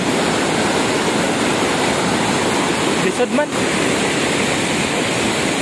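Aliwagwag Falls pours steadily as a broad, loud wall of rushing water, constant throughout, with a brief voice surfacing in the middle.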